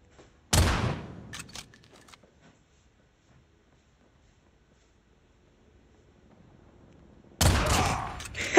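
Two loud bursts of gunfire in a shooter video game, one near the start and another at the end, with near silence in between.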